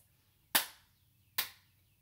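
Two crisp hand claps stand in for the letter I in the Bingo song, spaced just under a second apart and ringing out alone against a quiet room.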